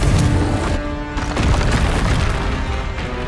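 A Confringo fire spell in the Hogwarts Legacy video game bursts with a loud, dense booming blast that rumbles on for several seconds amid continuous crackling and combat noise.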